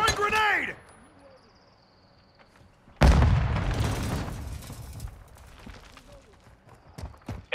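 A grenade blast in Modern Warfare II hits suddenly and loud after a short lull, its burst of noise decaying over a couple of seconds into debris and gunfire, with a brief voice just before.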